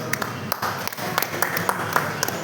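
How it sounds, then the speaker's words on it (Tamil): An audience at a meditation meeting inauguration gives scattered, fairly light clapping, with sharp individual claps rising over a busy hall background. "எல்லாம் கைத்தட்டுங்க."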